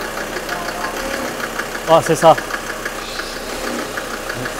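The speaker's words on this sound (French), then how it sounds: "Dès que je démarre, tu fais toucher. Si ça monte en régime, c'est que c'est bon." A diesel car engine in a budget drift project being started and settling into a low, rumbling idle, with a brief burst of louder clatter midway and a voice speaking briefly over it.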